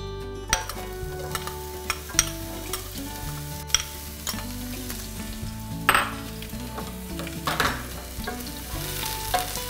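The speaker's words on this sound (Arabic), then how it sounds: "دلوقتي هحط اول حاجه البصل" Onions sizzle in hot oil in a heated wok or pot at the start of a shrimp and tuna pasta sauce: a steady close frying hiss with scraping stirs and occasional utensil knocks against the pan, no voices.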